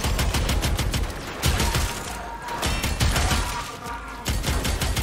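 Twin Kohmak shotguns in Warframe fire in dense, loud bursts of blasts, with a few brief gaps and a near, continuous barrage across the whole stretch.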